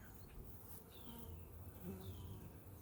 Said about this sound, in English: there's so many bees in here